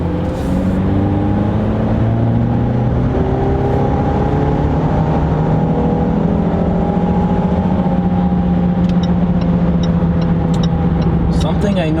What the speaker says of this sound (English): we're just gonna be driving the car at nighttime